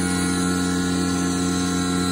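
A steady CNC machine drone with strong tonal hum and a buzzing, vibrating whine from the spindle cutting, constant and loud throughout with no talk.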